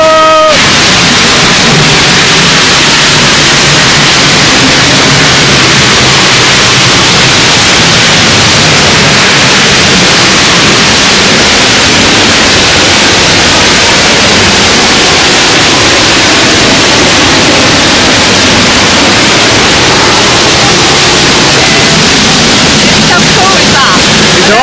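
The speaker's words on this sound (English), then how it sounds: "Going under a waterfall!" The Giessbach waterfall in Switzerland roars close overhead while someone walks beneath it, a loud, steady rush of falling water that fills everything without a break for the whole stretch.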